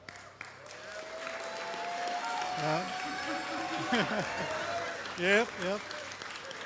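Wedding guests give a round of applause for the son-in-law who officiated, a soft sustained patter of clapping beneath someone speaking over it and a few other voices.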